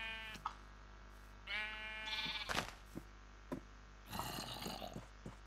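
A gray sheep in Minecraft bleats several times in quick succession, nasal, wavering calls broken by short gaps and soft thuds against a faint low hum.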